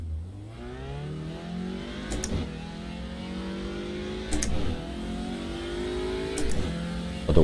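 A GT4 race car in iRacing on an IMSA Michelin Pilot qualifying lap at Barcelona, engine revving up steadily through each gear, with three quick upshifts cutting the rising whine at regular intervals and no talk over it.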